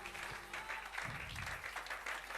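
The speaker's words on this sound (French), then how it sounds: "Nous le recevons avec nos acclamations." A church audience gives a steady, moderately distant round of applause, with cheering mixed into the clapping.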